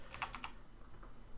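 Quick bursts of keystrokes on a computer keyboard clatter close by, a short cluster of clicks early on and then a lone tap, with soft room noise and no talking.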